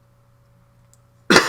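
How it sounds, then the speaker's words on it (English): A single sharp cough bursts out close to the microphone at the very end, after near silence with a faint electrical hum. "That was one of those coughs that once you start, you can't stop."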